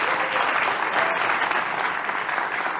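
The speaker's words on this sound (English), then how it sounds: "Give Abra a nice round of applause." Applause rises from a crowd watching a magic show after a card trick with Abra, a continuous, close wash of many hands clapping at steady volume throughout the short stretch.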